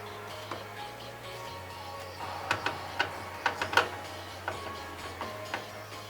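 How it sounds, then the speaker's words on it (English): Small screws are driven into an ATX motherboard during a gaming PC build, giving a series of faint, close ticking and ratcheting clicks that grow sharper and more frequent midway, with no talk. "Then screw in the motherboard screw."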